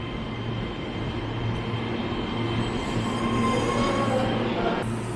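A Keihan 3000 series limited express bound for Demachiyanagi pulls into Kyobashi station, a steady loud rumble of wheels and motors with faint high squeals rising near the end.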